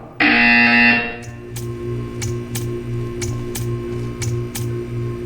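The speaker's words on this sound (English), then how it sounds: "You will hear a buzzer." A loud, harsh buzzer sounds for about a second in the video game Portal, then gives way to a steady tick-tock of evenly spaced clicks over a low, droning hum.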